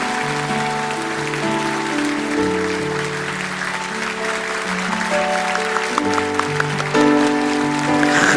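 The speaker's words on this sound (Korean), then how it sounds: "큰 박수로 그렇게 축복해 주시기 바랍니다." A church congregation at Bundang Woori Church claps during a Korean worship service, a sustained wash of applause mixed with held musical tones from accompaniment, with crisper claps rising toward the end.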